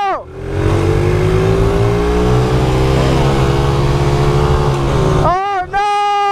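Dirt bike engine revving hard during a race on a road, a loud, close, sustained drone that climbs in pitch through the gears, then briefly drops off before revving again, with voices shouting over it.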